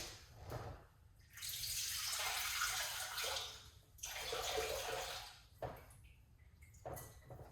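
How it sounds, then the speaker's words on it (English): Fresh produce is rinsed under a running tap, a steady rush of water that splashes and pauses several times as the items are moved under the stream, close and moderately loud. "we just rinse off this a little bit"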